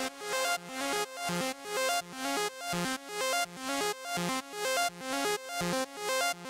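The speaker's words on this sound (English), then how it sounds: "we need to give this a bit of guitar rig, so I can give it some echo." A repeating synth or guitar pattern run through a Guitar Rig echo effect plays alone. Regular rhythmic pulses each fade into a trailing repeat, giving a steady, looping, moderately loud sound with no talking.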